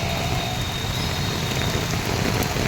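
Heavy monsoon rain in Surat, a dense continuous roar of rain on surfaces, loud and unbroken throughout with no voices.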